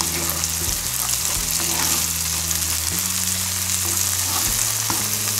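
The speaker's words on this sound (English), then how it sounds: "just saute a little bit" Butter sizzles steadily in a hot pan on medium heat as onions are sautéed for mushroom pierogi, a constant close frying hiss with occasional soft stirring scrapes.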